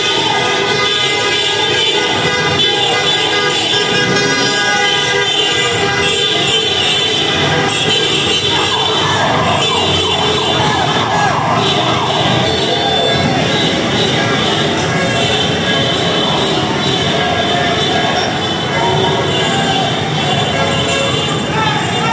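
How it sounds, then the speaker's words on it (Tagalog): A large crowd of Duterte supporters marching from Mendiola to Liwasang Bonifacio shouts and cheers continuously, a loud, dense roar with voices layered throughout and no breaks. "Grabe ang hiyawan nila"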